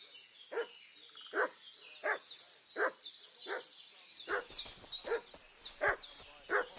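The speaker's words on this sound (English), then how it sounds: "What's that dog making such a fuss about?" A dog barks repeatedly in Kingdom Come: Deliverance, a medieval video game, giving a steady series of sharp barks about every half second. Chirpy birdsong layers over the barking in the second half.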